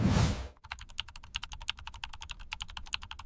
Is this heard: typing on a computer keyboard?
yes